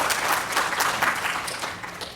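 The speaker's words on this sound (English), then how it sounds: "May we have an applause for that number?" An audience at a lecture on the Sardis excavations bursts into steady, full applause, a dense wash of many hands clapping at close to even loudness for about two seconds with no voices over it.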